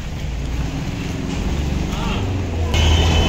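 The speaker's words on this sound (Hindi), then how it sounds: "भाई ट्रैफिक देखो, ट्रैफिक है दिल्ली में यार।" Busy Delhi street traffic hums and rumbles steadily, with engines passing nearby and the noise swelling louder toward the end.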